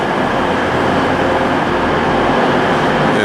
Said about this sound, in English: it's a train running and it's on time